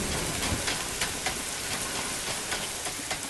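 Steady rain falls in a dense, even hiss that runs the whole moment without a break, with scattered brighter patter on top and no voices.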